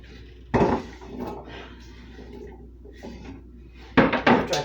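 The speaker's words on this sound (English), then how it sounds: "I'm just dicing this quick, just as fast for me." Knife dicing vegetables on a cutting board during home food prep, giving a few sharp, close chopping clusters with quieter kitchen clatter between them.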